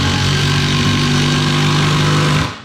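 A cordless impact driver, Milwaukee or DeWalt, drives a screw with a loud, steady, buzzing whir that runs nearly unbroken at close range, then stops abruptly near the end; no talking.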